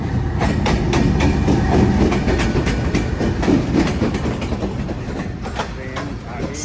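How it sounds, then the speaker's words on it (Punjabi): A train pulling into a railway platform, close and loud, with rhythmic clattering of wheels over rail joints that gradually eases as it slows, with no clear talk. "ਟ੍ਰੇਨ ਆ ਗਈ"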